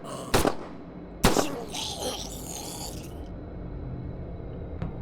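In the Desecration zombie shooter, a gun fires two sharp, loud cracks about a second apart. Mechanical clatter and a ringing tail that fades out follow, and a faint tick sounds near the end.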